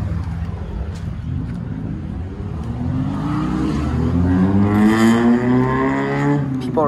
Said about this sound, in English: People racing their cars in the background today.